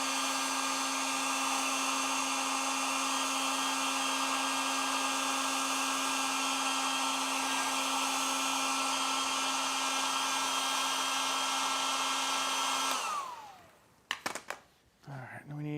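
A heat gun warms a wire to make it pliable for bending during a Ford Transit off-road front bumper and strobe light install. Its steady, loud blowing whine runs for about thirteen seconds, then cuts off, followed by a few light clunks.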